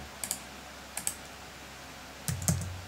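Computer keyboard typing, with its battery thought to be running low: a few quick pairs of soft key taps separated by quiet gaps, followed by a slightly louder cluster of keystrokes near the end.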